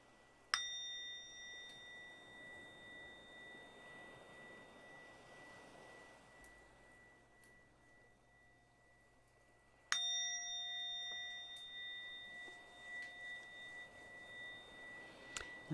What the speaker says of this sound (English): Let's just use that sound of the bell to come back to ourselves.